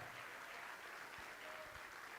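Steady applause from a church congregation, a continuous wash of clapping that stays even throughout, heard from some distance.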